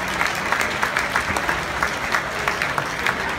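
An awards-night audience gives a singer another round of applause, a moderately loud, even patter of many hands with slightly uneven surges, continuing without pause to the end.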